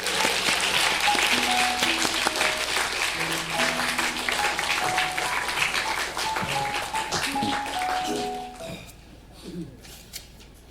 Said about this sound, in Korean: 다시 인사하시고 들어가실 때 더 큰 박수로 함께 해주시기 바랍니다